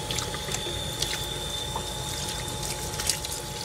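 Water running steadily while a plush Webkinz toy is rinsed in a bath, a continuous close hiss and splash with faint handling bumps.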